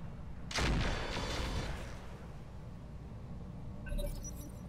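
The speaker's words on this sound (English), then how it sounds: "plasma cannons do a fair bit of damage to buildings" Plasma cannons firing in the mech combat game Roguetech: a loud booming blast near the start that decays over about a second, followed by a quieter second blast near the end, over a low rumbling background.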